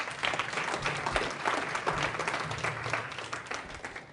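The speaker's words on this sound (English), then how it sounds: "Round of applause." Audience at a business networking seminar giving a round of applause, a steady, dense wash of clapping that holds evenly throughout at moderate level.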